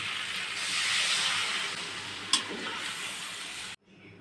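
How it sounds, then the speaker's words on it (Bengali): Water poured into spiced curry in a hot pan sends up a loud, steady hiss of steam and sizzle, with a brief sharp clink partway through, before cutting off abruptly. "মশলা কষানো হয়ে গেছে তরকারির সাথে এখন আমি দিয়ে দেবো জল"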